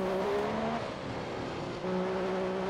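Formula 1 car from the F1 2015 racing game braking hard into a corner at the Belgian Grand Prix, engine tone dropping sharply as revs fall, then climbing again on exit, steady and close.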